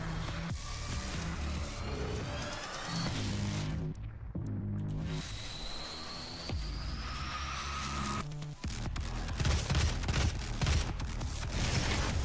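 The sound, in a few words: gunfire in the video game DOOM 2016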